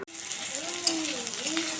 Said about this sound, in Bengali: আমি আগে পেঁয়াজটা ভেজে বেরেস্তা করে নেব, লাল লাল করে করব